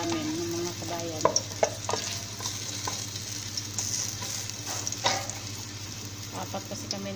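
Garlic sautés in a pan for a stir-fried mung bean dish with cabbage, a constant sizzle broken by repeated clinks and scrapes of stirring, with a low background hum.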